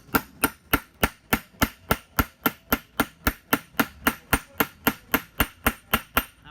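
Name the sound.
hammering lead head on pendant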